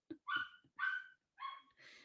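A dog barks three or four times in a short loud series with brief gaps between barks, close and clear against otherwise quiet surroundings.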